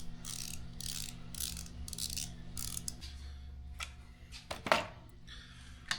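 An M4 tap cuts a thread in metal, producing a series of short, close clicking and scraping bursts in a rough rhythm with brief pauses, fairly quiet overall.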